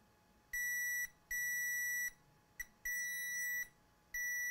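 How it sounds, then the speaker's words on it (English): Multimeter in diode mode beeping continuously while probing a 2019 MacBook Pro logic board for shorts to ground; five steady high-pitched tones of varying length with short gaps, clear and close with no talking. "measure short to ground, meter in diode mode"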